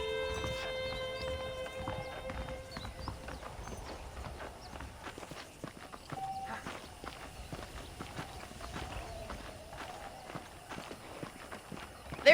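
Saddled horses in the video game Red Dead Redemption; rhythmic hoof clip-clop on dirt and soft footsteps under quiet game ambience, moderately distant and fairly faint.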